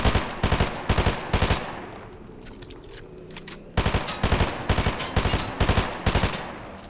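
Rapid bursts of automatic gunfire from a Fortnite zero-build match, loud and close, in clusters of sharp repeated shots with a brief lull of softer background noise in the middle.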